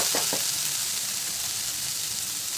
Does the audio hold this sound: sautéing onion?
yes